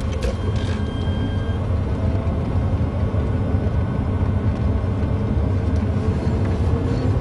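A home-converted electric car rolls along and turns around, giving a steady low road rumble and faint whine with no engine note, moderately close.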